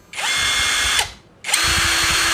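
A JLD cordless impact wrench whirs in two bursts, about a second each with a brief gap between them. The motor spins up sharply and runs loud and close, with a rattling drive underneath.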